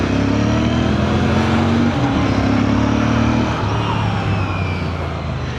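A Royal Enfield Bear 650 motorcycle accelerates hard through the gears, its engine note rising in pitch, dropping at a shift, then climbing again, loud and close with wind noise.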